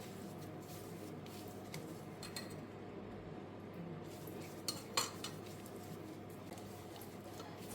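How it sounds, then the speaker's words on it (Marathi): A spoon clinks and scrapes against a dish while a spice paste is mixed with cooking oil, giving soft irregular stirring sounds with a few sharper metallic taps, close and quiet, without talking. "मिक्स करून आमकां पेस्ट करून घेवंक जाय ऑयल घालूनच."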